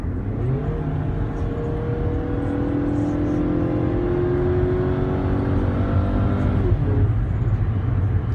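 A 2014 Chrysler 200 with a V6 engine accelerates, its steady loud engine tone rising smoothly in pitch for several seconds before dropping briefly at a shift, over constant road and wind noise.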